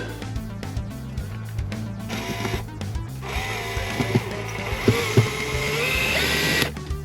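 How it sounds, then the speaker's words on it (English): Screws being driven into a surround while security is added, heard as a motor whine in several short bursts with a few clicks and taps, fairly close and moderately loud. "Now we should be able to screw these."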